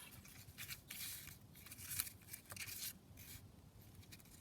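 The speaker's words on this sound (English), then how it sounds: "let's just tear that piece off." A piece of paper pulled and torn off in a quiet room during a craft project, a few soft rasping rips and rustles close by, faint and with pauses.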